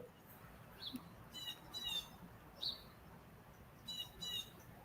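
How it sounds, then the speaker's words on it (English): A bird chirps outside, its short, high squawks and calls arriving in small bursts a few times, faint and somewhat distant over a quiet background hiss. "I got a bird chirping back there too somewhere."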